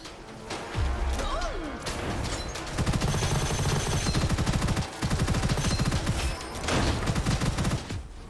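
Rapid gunfire from the first-person roguelite shooter Gunfire Reborn, with dense bursts of automatic shots and crashing impacts layered over game music and effects, loud and nearly continuous.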